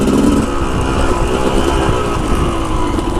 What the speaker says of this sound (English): I repacked my muffler. So she's sounding pretty freaking crisp right now